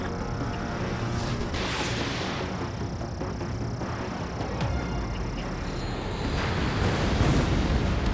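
An enemy bomber blowing up in the jet combat game Ace Combat 7: Skies Unknown, a sustained roaring, rumbling explosion with whooshing swells that builds slightly toward the end, with no voices over it.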